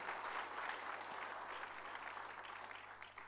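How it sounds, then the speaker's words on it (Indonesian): A church congregation applauds, a steady wash of many hands clapping that sounds fairly distant and quiet throughout the short stretch, with a faint hum beneath. "Tepuk tangan yang keras buat Tuhan"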